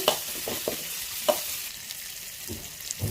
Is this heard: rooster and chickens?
no